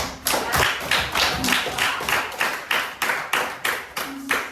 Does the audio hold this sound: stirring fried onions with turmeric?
no